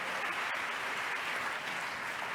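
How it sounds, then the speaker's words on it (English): Audience applause for a panel at the UNESCO NGO Forum 2017 in a large hall, a dense, sustained wash of many hands clapping, soft and somewhat distant. "Big round of applause for our panel today."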